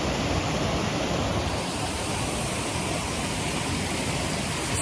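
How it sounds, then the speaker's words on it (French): Rushing water from small cascades in the French Hautes-Alpes in winter fills the scene, a loud, steady broadband roar with no pauses and no voices. "On a les petites cascades."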